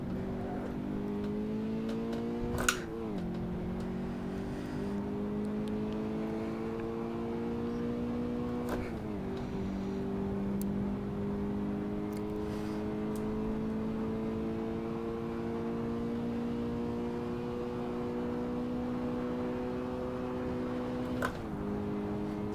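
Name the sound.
Toyota GT86 engine revving in the video game Assetto Corsa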